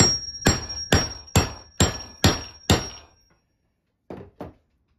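Hammer striking a hole punch into a leather belt, six sharp evenly spaced blows, then a pause and two lighter taps, loud and close with no talking.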